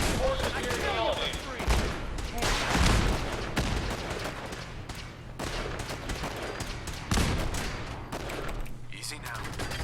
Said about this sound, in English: Oh, this is pretend gunfire.